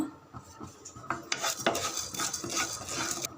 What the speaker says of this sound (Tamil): ஆறு கிராம்பு ஏலக்காய் ரெண்டு பட்டை இவங்கெல்லாம் ஃபஸ்ட்டில் வறுத்துடலாம்